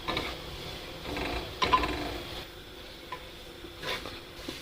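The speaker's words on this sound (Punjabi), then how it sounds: "ਬੇਸਨ ਭੁੰਨਣਾ ਸ਼ੁਰੂ ਹੋ ਗਿਆ ਆ ਹੁਣ ਹੌਲੀ ਹੌਲੀ ਉਹਨੇ ਘਿਓ ਛੱਡਣਾ ਸ਼ੁਰੂ ਕਰ ਦਿੱਤਾ ਆ" Gram flour (besan) roasts in ghee in a pan, a soft, low sizzle broken by occasional scraping stirs, quiet and close.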